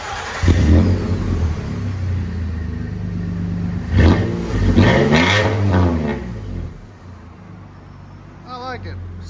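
A 2005 Nissan Pathfinder with a 4.0L V6 and side-exit exhaust revs loudly up close in several rising pulls, its deep rumble swelling and settling before fading near the end.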